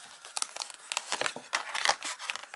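Lenormand cards being handled and shuffled, quick light papery rustles and soft flicks in irregular bursts, close and fairly quiet.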